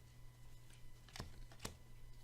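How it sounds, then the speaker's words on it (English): A deck of playing cards for the board game Clank! is shuffled, two quick riffling bursts over a low steady hum, faint and close. "The rest of this deck would be shuffled up."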